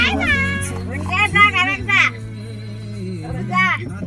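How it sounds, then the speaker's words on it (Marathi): A cat meows several times up close, drawn-out wavering cries over a steady low hum, with a voice briefly mixed in. "मांजर"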